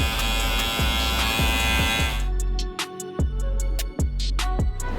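Electric hair clippers buzzing steadily through a high fade buzz cut, with the blade lever shifted from midway toward fully open; a close, continuous hum broken by short pauses and regular passes against the hair.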